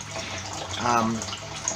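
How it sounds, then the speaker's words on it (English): Water pours steadily into a fish tank at an ornamental fish farm in Jamaica, a continuous splashing rush with a brief gurgle in the middle. "tank is being refilled"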